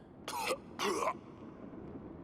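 Two short, harsh coughs from a poisoned king character in the video game Yes, Your Grace, in quick succession, fairly close, followed by quiet background hiss.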